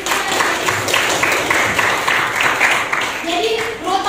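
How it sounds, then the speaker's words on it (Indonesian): Students in a classroom mathematics lesson clap together in a dense, continuous patter. Toward the end, a voice begins speaking over the fading applause. "Ya, beri tepuk tangan."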